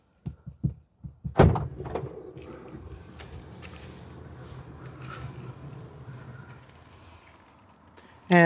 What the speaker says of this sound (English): So shut the door over here.